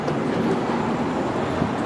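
A Virgin Pendolino train pulls out of a station platform, giving a steady broadband rumble of wheels and rail noise that holds at an even level throughout, with no voices.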